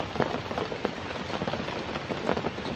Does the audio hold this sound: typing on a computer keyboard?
no